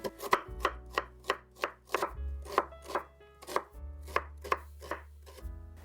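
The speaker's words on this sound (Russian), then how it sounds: "Также небольшими кубиками режу луковицу." A knife chops an onion into small cubes on a cutting board, about a dozen sharp, even strikes in quick rhythm, close and clear with no talking.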